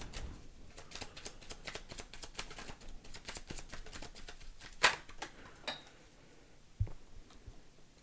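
A tarot card slides off the deck and lands during a love reading, heard as soft papery shuffling and rustling, with a few sharper flicks and taps standing out near the end.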